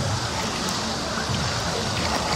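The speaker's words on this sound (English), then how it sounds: "We're in the lazy river at Aquatica." Water at the lazy river in Aquatica water park rushes and churns in a dense, continuous wash close by, loud and unbroken, with no clear talk above it.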